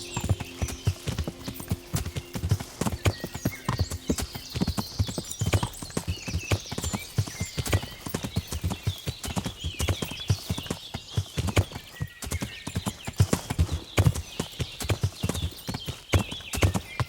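Horse hooves clip-clopping in the medieval game Kingdom Come Deliverance, a steady rhythmic trot of close hoofbeats with occasional whinnies and a faint music bed underneath.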